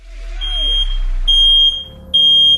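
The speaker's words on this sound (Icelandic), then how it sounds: "Þessi reykskynjari er að verða batterislaus" A smoke detector gives three sharp, loud, high beeps, like a low-battery warning, spaced about a second apart, played within a radio advertisement.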